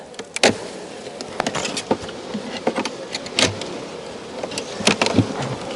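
Honey bees buzz in a steady, busy swarm as they are shaken down into the bottom brood box of a hive in a bee yard, with sharp knocks and rustling bursts scattered throughout.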